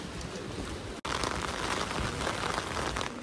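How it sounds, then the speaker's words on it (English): Rain falls steadily in the Netherlands, a dense close-up patter and hiss on surfaces, briefly cut off for an instant before continuing evenly with no voices. "And as you can see, it's raining again."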